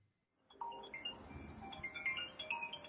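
An incoming-call phone ringtone starts after a brief quiet moment and plays a bright repeating electronic melody at moderate loudness, with no talk over it.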